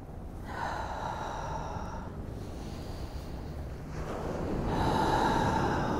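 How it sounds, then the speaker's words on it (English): A slow, deep inhale through the nose followed by an audible exhale, then another inhale, repeated during an evening Pilates routine, close to the microphone with a soft breathy hiss and no talk. "Inhale, and exhale."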